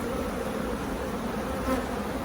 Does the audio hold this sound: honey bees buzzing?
yes